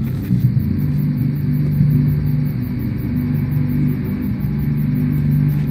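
A truck engine in The Walking Dead video game rumbles loudly and steadily at close range, with a low droning hum and slight swells in revving throughout.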